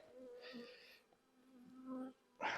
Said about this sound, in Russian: пчелы